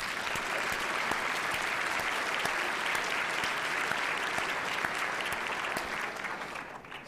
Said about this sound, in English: What about another round of applause for Dr. Carson?